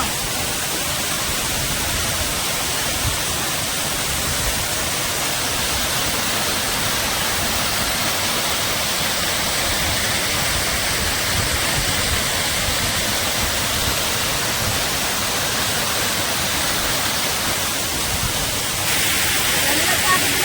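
The Bhoothakuzhi waterfall roars steadily throughout, a dense broadband rush of falling water with no breaks, loud and close.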